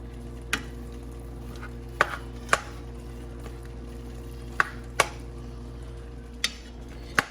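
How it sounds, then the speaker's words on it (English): Beef sausage cooking in a pan for a three-meat lasagna is stirred with sharp, scattered scrapes and taps, about eight over several seconds, above a steady low hum and faint sizzle; no one speaks. "I am cooking this and I am continuing to stir because I do not want it to burn"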